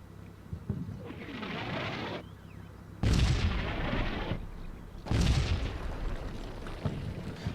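Heavy artillery fire booms in a military strategy video game during a Black Sea training exercise: three loud, rolling blasts, each with a long noisy tail, heard with no talking.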